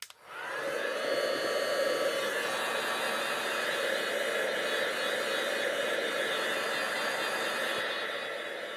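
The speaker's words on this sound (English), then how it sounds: "I'll just give that a wee dry with the heat tool." A craft heat tool blows hot air over paper, switching on with a quick rise into a steady, close whooshing hiss that holds evenly for several seconds before easing slightly at the end.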